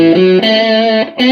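Overdriven electric guitar chords through the drive channel of a Fender Frontman 212R amp ring out with a gritty, distorted tone, sustained and loud, with a brief dip before a new chord strikes.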